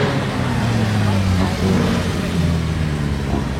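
A new Porsche GT3 sports car passing in the streets of Monaco, its mid-pitched engine droning and revving steadily close by, with a voice talking over it.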